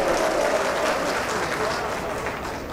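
Audience applause at a mushaira, an Urdu poetry gathering in Sikanderpur, with dense clapping filling the hall and a voice briefly audible through it, fading gradually toward the end.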